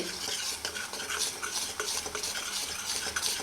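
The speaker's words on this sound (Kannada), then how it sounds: "ಚೆನ್ನಾಗಿ ಫ್ರೈ ಮಾಡ್ಕೋಬೇಕು" Paneer masala gravy fries in a pan until the oil separates, with busy, continuous spoon scraping and stirring over a low sizzle, close up and without voices.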